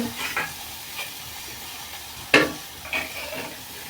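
Crushed tomato and onion sautéing in a pan, a low background sizzle broken by a few distinct spoon scrapes and clinks as the mixture is stirred, no voices.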